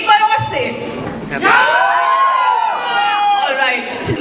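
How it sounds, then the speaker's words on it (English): An audience at an event at the JW Marriott Hotel cheers and whoops, with shouts rising loudly through the middle while voices carry on over them. "I want to hear a loud applause from all of you"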